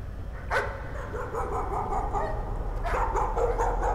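Dogs bark in the Layers of Fear horror video game, two short bursts of barking, one near the start and another near the end, moderately loud over a low background hum.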